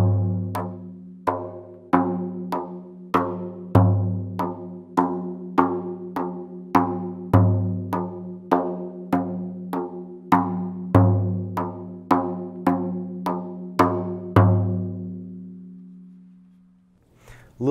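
A hand drum played with alternating thumb and hand strokes in a steady repeating rhythm, about two dozen resonant hits with deep ringing tones, close and alone, slowing and fading at the end.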